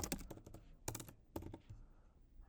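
Rapid clusters of close computer keyboard keystrokes while typing Python code, arriving in three quick bursts separated by short pauses, crisp and clicky against a quiet room.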